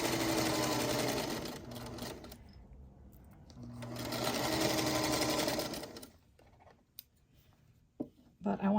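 A sewing machine stitches quilt block seams in two close, loud bursts of rapid mechanical whirring separated by a pause, followed by quieter handling clicks and faint background sounds.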